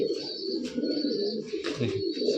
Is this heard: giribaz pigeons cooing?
yes